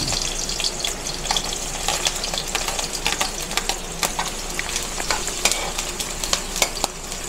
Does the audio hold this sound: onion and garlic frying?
yes